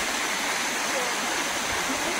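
Rahas Waterfall at Soro, Baleswar, pouring in a constant loud rushing roar of falling water, a dense steady wash with no breaks.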